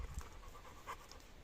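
A dog pants close by, quiet quick rhythmic breaths over soft outdoor background.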